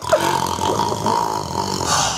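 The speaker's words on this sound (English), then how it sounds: "Mom, shut up with all the little snoring!" Steady, continuous snoring-like droning in a comedic home scene, loud and close, rumbling without break across the whole stretch.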